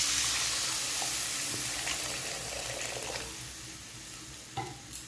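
Vegetables frying in a pan with cumin and coriander powder hiss and sizzle as water is added, a steady bubbling wash that slowly fades, with a couple of light clinks near the end.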